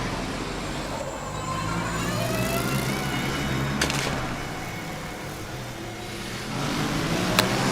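A Formula Student race car running on the track during an endurance event, a steady wash of distant engine and track noise with a faint high whine drifting through.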